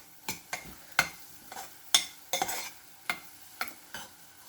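A spoon stirs asafoetida in a pan for lentil curry, scraping the metal in quick, irregular strokes about twice a second. A soft sizzle runs underneath, close and clear, with no talking.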